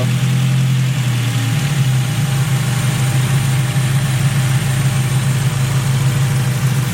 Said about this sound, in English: There's the idle in there